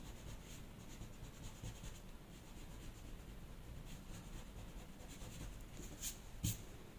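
An eraser rubs away excess pencil lines on paper while drawing manga eyes, a faint, steady scrubbing that continues with little pause and ends with a couple of light taps.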